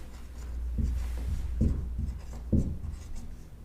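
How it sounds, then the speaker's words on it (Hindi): Chalk or marker writing on a board during a Hindi grammar lesson, a few short scratchy strokes in quick bursts, close and clear with no talk over them. "भर्तहरि दोस्तों ऐसे लिखते हैं"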